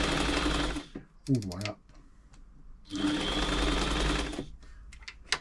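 A New Home 508 sewing machine runs straight stitches in bursts of rapid, even clatter, stopping and restarting as stitch length changes, close and clear, with a voice speaking briefly between runs.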